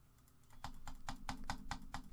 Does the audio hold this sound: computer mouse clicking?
yes